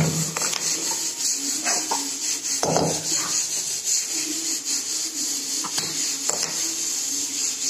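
Greens with crushed peanut and garlic being dry-roasted and stirred in an iron kadhai, giving steady scraping and rubbing strokes of a spatula against the metal, close and continuous, with a few louder scrapes and no talking.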